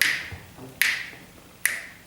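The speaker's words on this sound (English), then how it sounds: "could you do this by snapping through the big beats" Three sharp finger snaps mark the big beats of a musical exercise, spaced evenly with short decays and quiet between them.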